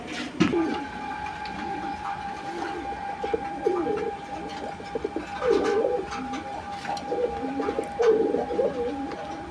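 Raj-golla Lahori and Lakkha pigeons coo in repeated soft, throaty bursts at close range over a steady low background hum, with a faint voice now and then.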